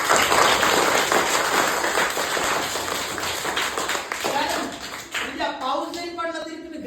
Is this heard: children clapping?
yes